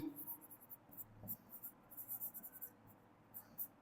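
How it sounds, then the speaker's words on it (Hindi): Pen scratching on paper in short, uneven strokes, close and fairly quiet, with faint room noise and no talking. "यहां मैं देखो लिख रहा हूं"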